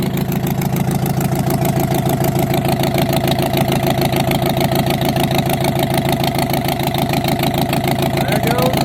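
A Komatsu dozer's diesel engine idles steadily and loudly throughout, a close continuous rumble while the blade hydraulics are tried, with a voice talking over it.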